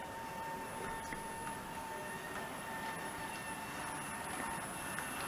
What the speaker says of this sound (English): I think the squeak indicates that the brakes are not quite coming off the tender. But away goes the E4.